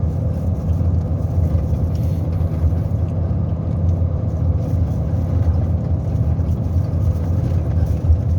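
A vehicle rides along a road after leaving a temple, its engine and road noise a steady, close, unbroken drone with no pauses.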